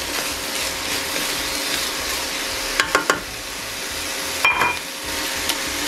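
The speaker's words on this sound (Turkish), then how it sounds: "Şöyle bir 2-3 dakika kadar daha soteleyeceğim sebzelerimi." Vegetables sauté in olive oil in a pot, a steady close sizzle broken by a few sharp scraping and clattering stirs of a spoon against the pot's sides.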